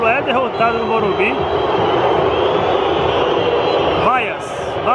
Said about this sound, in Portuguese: Vaias, vaias e mais vaias.